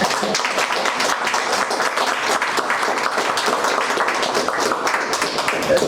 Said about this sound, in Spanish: Pues siempre nos damos un aplauso colectivo, ¿verdad?